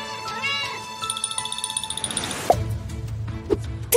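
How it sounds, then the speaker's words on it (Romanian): Cartoon kittens meow in a rapid run of short, high, repeated mews over bright musical tones, followed by a few louder separate meows near the end, with no talking. "Sunt niște pisicuțe"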